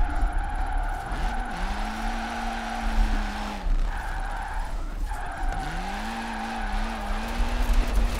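Tires squeal in long sliding arcs as a LEGO car drifts through a drift zone in the LEGO Valley video game, engine droning steadily underneath, two sustained squeals with a brief break between.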